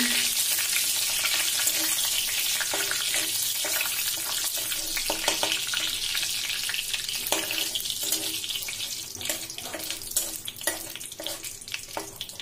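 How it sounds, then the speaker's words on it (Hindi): Bay leaves and dried red chilies fry in hot mustard oil, giving a continuous loud hissing sizzle, with crackling bursts growing sharper and more frequent toward the end. "ये तेज पत्ता और सूखी मिर्ची को थोड़ा फ्राई कर लेंगे"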